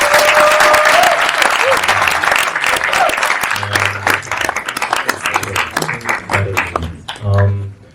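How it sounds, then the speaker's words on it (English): Audience applause fills a room after a film screening event, dense clapping with some cheering under talk, staying loud throughout before tapering slightly near the end. "Could you guys give us a round of applause?"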